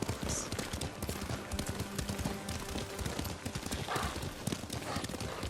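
Horse hooves clip-clopping at a riding pace in the video game Ghost of Tsushima, a quick, continuous patter of hoofbeats kept fairly quiet, with faint background sounds mixed in.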